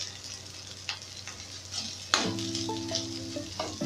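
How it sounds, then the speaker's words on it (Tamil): Garlic sizzles steadily in a hot pan for an onion chutney, a soft continuous frying hiss with a sharp stir or utensil clink midway and faint scrapes after. "போட்டு வதக்கி விட்டுட்டு"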